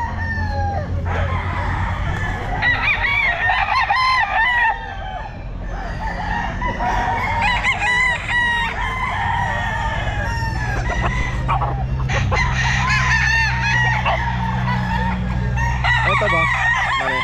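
Gamefowl stag roosters at a pet market crow loudly and repeatedly in overlapping calls, close by, with clucking and farmyard bustle between the crows.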